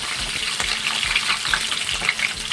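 Chopped green chillies fry in hot oil for a crab curry, a continuous close crackling sizzle with small pops scattered throughout, with no voices.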